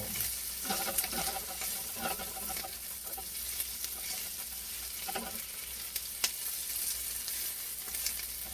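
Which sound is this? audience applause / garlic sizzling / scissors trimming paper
garlic sizzling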